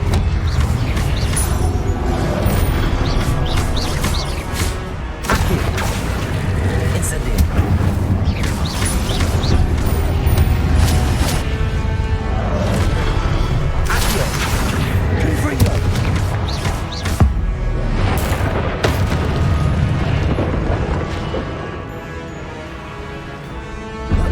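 Fire and blast spell effects, incendio and confringo among them, crack and boom one after another in Hogwarts Legacy, loud and dense with rumbling impacts layered over continuous game sound.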